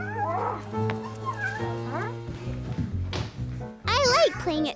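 A voice imitates a cat's meow with rising and falling cries, amid excited children's chatter, whooping and playful animal-like calls.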